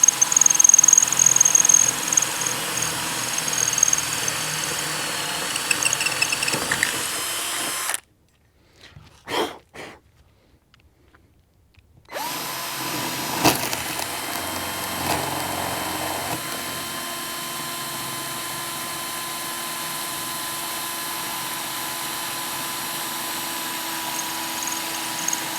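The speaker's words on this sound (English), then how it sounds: "just let the drill do the work" A power drill bores mounting holes for a Minn Kota Riptide Terrova trolling motor on a saltwater boat, a loud steady whine that cuts out briefly, then resumes and runs on, with no talking.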